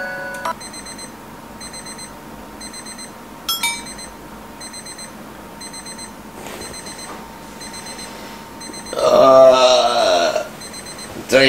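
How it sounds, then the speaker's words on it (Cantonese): A novelty claw-machine alarm clock beeps in short repeated bursts across the clip. Near the end a louder, warbling ring takes over, with brief voices heard in between. "終於都聽到鬧鐘聲響啦"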